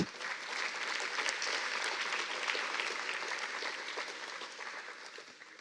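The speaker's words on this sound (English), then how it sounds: "Please join me to applaud him once again because he deserved that." Sustained applause from an audience at an honorary doctorate ceremony, a dense, steady wash of many hands clapping close by that holds for the full stretch and tapers only slightly at the end.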